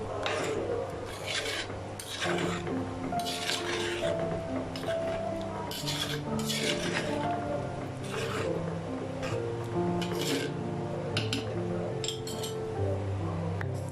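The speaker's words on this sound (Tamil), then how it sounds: "இப்போ இதை நல்லா மிக்ஸ் பண்ணி விட்டுக்கோங்க." Fish and mango curry with added salt being mixed in a pan, producing steady scraping and rubbing of a spoon against the pan with occasional clinks, close and continuous over a background of music.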